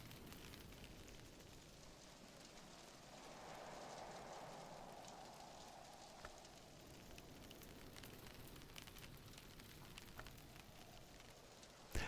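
Hail in the video game Book of Hours, heard from indoors: a steady, muffled patter and hiss of pelting ice runs through the whole stretch at moderate level, with no voices over it.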